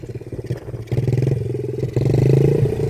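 A Honda CRF50 dirt bike with a BBR pipe idles just after starting, a close, low, rhythmic putter that rises slightly in loudness partway through, with no talk over it.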